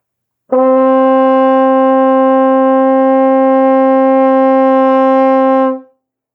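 A valved brass instrument with no valves pressed sounds a single sustained open G, steady and loud from a clean attack to a quick fade, played alone.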